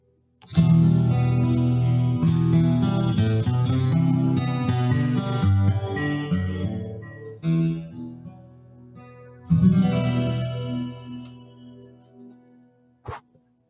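Acoustic guitar through a Yamaha THR desktop amplifier: strummed and picked chords drenched in lush, shimmering reverb and chorus, ringing out, pausing, then a final burst of strumming.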